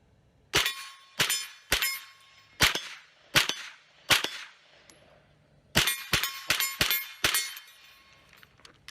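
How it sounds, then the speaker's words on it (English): Rifle shots from an AR-15 fitted with a laser light combo, a dozen sharp cracks in two bursts, the first evenly spaced and the second quicker, each ringing briefly before fading, with no talking. "this is the first time I've ever done any shooting with a laser"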